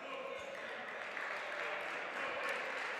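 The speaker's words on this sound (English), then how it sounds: "Some applause" Scattered crowd applause in a high school basketball gym during a holiday tournament game between Naperville North and Hansberry, steady and moderately distant, with a free throw about to be taken.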